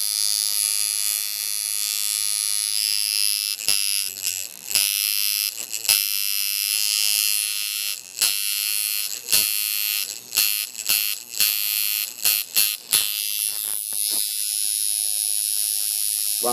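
An Unimax shader tattoo machine runs at 7 volts, around 110 hertz, with a loud, steady electric buzz that is repeatedly broken by brief dips and stutters, ending in a thinner, lower hum.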